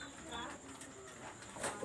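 A red-eyed pigeon coos in a low, soft, throaty burble, faint and close, partly under someone talking.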